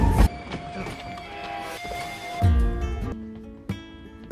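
A train rumbles and clatters into a railway crossing, a loud, sustained rolling noise with heavy low thumps and a bright tonal squeal, ending in a few sharper knocks.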